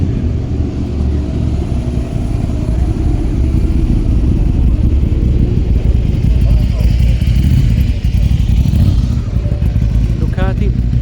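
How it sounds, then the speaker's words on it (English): A Ducati 575M-era motorcycle passes at a supercar street gathering in Auckland, its engine note rising in a loud, continuous rumble that swells and then fades. "Ducati."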